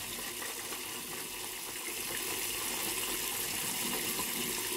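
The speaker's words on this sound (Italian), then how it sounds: "Un po' d'acqua calda." Hot water runs from a tap during a shave lather preparation, a soft, steady hiss of flowing water, faint and continuous, with no talk over it.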